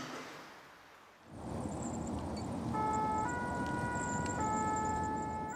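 A steady two-tone siren from a Paris-area fire brigade ambulance responding to a road accident wails over loud road and engine rumble, starting partway in and continuing to the end.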